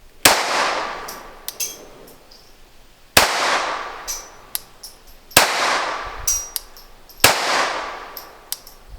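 Four loud, sharp pistol shots from an SR22 ring out at roughly two-second intervals, each with a ringing decay and followed by faint metallic clinks.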